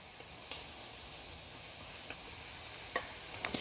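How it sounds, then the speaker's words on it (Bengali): Shredded cabbage and other vegetables fry in a pan with a soft, even sizzle. A few light scraping and clinking strokes of stirring sound, clustered toward the end. "এখন আমি এর মধ্যে বাঁধাকপিগুলো দিয়ে দিচ্ছি"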